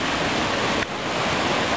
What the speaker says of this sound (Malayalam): നമ്മൾ വെള്ളച്ചാട്ടത്തിലോട്ട് എത്തിയിരിക്കുകയാണ്.